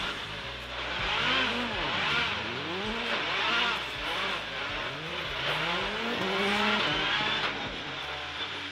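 Citroen rally car engine revving hard with rising and falling pitch sweeps, loud and close, with some tire squeal, running continuously for several seconds without talk.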